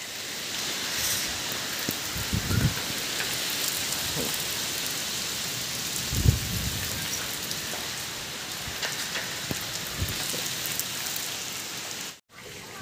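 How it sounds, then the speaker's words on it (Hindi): Heavy rain pours steadily in a dense hiss, with a few low thumps and gusts breaking through now and then. "तो अब तो बहुत तेज तेज बारिश होने लगी है"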